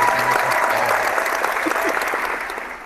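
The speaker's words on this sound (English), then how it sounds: "Dropping them claps" A canned clapping sound effect played during a live stream: dense, steady applause from a crowd lasting the whole stretch and fading slightly at the end, loud and up close.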